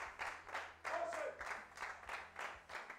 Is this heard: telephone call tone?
no